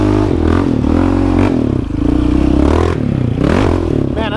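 A dirt motorbike rides a newly cut trail section, its engine loud and close throughout, revving up and down through the gears with rattling and clatter from the bike over rough ground.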